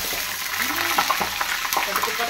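Hot oil crackles and sizzles steadily as mustard seeds, cumin and dried red chillies hit the pan for tempering buttermilk rasam, with a few faint clinks over the continuous frying hiss.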